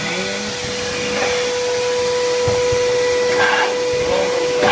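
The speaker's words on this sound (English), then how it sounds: "with the shop vac, we'll keep blowing" A shop vac blows lint out of a clothes dryer with a steady whining hum and airy hiss, loud and close, with a few light knocks underneath.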